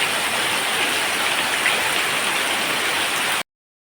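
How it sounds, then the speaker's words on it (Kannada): Heavy, steady rain pours down without a break during a two-hour downpour, a dense loud hiss of water that cuts off abruptly near the end. "ಮಧ್ಯಾಹ್ನ ಮೇಲಿಂದ ಜೋರು ಮಳೆ"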